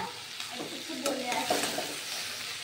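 Vegetables and pasta sizzling in a pan with grated carrot, stirred with a few scraping strokes, close and steady with no talking.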